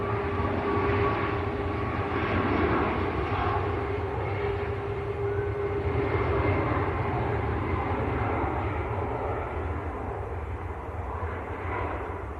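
A TUI airliner on its take-off roll at Manchester Airport gives a steady, broad jet engine roar with a faint whine, heard from a distance at a constant level throughout, with no talk.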